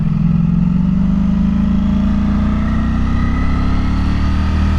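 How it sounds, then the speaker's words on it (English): A Ducati V4 motorcycle engine hums loudly and steadily up close, its pitch slowly climbing as it runs. "this V4 just sounds absolutely lovely"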